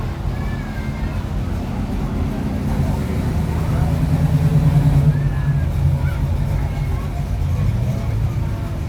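Old car rolling by in a July 4th parade in Harrisburg, a low steady engine rumble under crowd murmur and nearby talk, fairly even in loudness with a slight swell midway.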